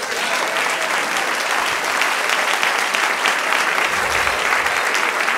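A church congregation applauds in praise, a dense, steady wash of many hands clapping at close range for the whole stretch, loud and even with no talk over it.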